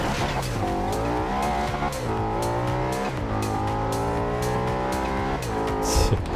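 An Audi RS5 S1 racing in Forza Horizon 2, its engine droning steadily at high revs with shifting pitch while the tires squeal and skid through corners, loud and continuous with no talk.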